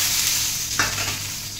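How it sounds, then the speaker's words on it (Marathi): Oil sizzling on a hot griddle before a bhakri flatbread goes on, a continuous bright hiss with one brief sharper flare midway. "तव्यावर तेल टाकून घ्या"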